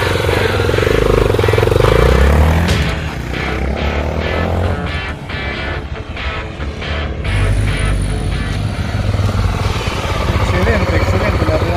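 A Honda Tornado motorcycle engine catches on the first try and runs, revving up and settling into a rough idle, with people talking over the engine noise.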